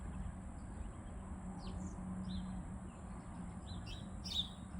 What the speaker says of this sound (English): Hey, little sparrow. There's food down there.